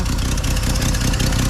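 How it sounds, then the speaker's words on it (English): A Chevrolet C10 pickup idles with an audible tailpipe note, a loud, steady, close low rumble with an even pulsing throb and no voices. "the tailpipe actually makes some noise now too"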